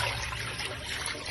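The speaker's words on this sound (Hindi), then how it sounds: "इसमें हम पानी ऐड कर देंगे" Water pours into a cooking pot over a lit stove burner while chicken yakhni soup is being prepared, a steady close trickle running unbroken for the whole moment with no talking.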